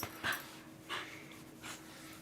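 A dog snorts and sniffs nearby in three short breathy bursts about two thirds of a second apart, with soft panting between them indoors.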